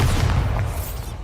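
A Bombarda spell explodes in Hogwarts Legacy as a loud, close, continuous booming rumble that fills the whole moment without letting up.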